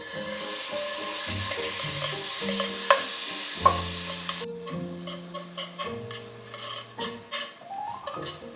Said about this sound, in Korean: 식용유에다가 여기 고기를 볶을 때 참기름 조금만 넣어주시면 됩니다.